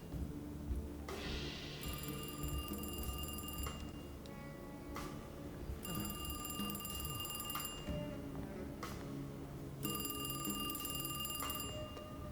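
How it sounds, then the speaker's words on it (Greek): Old-fashioned telephone bell ringing in the video game Alone in the Dark, three long shrill rings spaced a few seconds apart over a low droning ambient background. "Χτυπάει ένα τηλέφωνο, ρε παιδιά."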